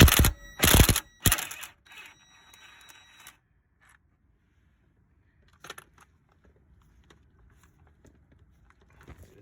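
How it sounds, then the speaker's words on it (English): An impact wrench hammers brake bolts on a Ford Fiesta MK7 front brake during disc and pad replacement, with two or three loud rattling bursts up front, then near silence broken by faint clicks and handling noises. "Finish it off with impact wrench."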